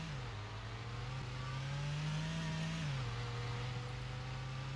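A bus pulls away in the Roblox game Blackridge RP, its mid-pitched engine note rising steadily and then dropping as the gear changes, a continuous drone with no talk over it.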